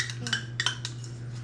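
Metal spoon clinking and scraping against a dish during home cooking, several sharp clinks in quick succession over a steady low hum, close and moderately loud.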